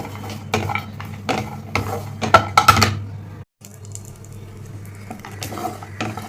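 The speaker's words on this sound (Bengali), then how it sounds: "এখানে আমি কটা কিশমিশ দিয়ে দিলাম কাজু বাদামের পরে তো এবার এগুলোকে ভেজে নিতে হবে" Cashews and raisins fry in a pan with a light, steady sizzle while a spoon clinks and scrapes against the metal in several sharp bursts, followed by a short pause.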